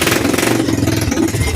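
A Timberwolf ATV engine running loud with no muffler, a raw, steady mechanical drone with rapid low pulsing and no talk over it.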